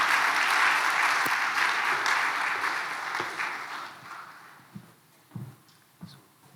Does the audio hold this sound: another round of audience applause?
yes